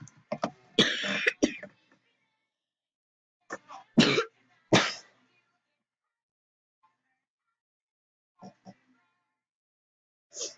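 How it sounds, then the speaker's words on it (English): A person playing Minecraft Murder Mystery coughs in several harsh bursts, close and loud, with quieter throat-clearing sounds in the gaps between them. "I don't want to cough anymore, but"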